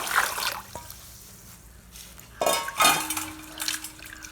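Rice grains being washed by hand in water in a pot, rinsed several times before soaking for traditional Kongu idiyappam, with wet swishing and splashing in a few short bursts and occasional clinks of the vessel.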